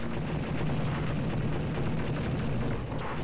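Gunfire and explosions from the Star Wars: Dark Forces video game form a dense, continuous barrage of booms and blasts that stays loud throughout, with no speech.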